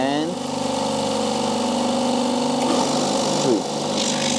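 A silent air compressor converted to three-phase power runs steadily with a continuous motor hum and drone, alone and close, shifting slightly partway through.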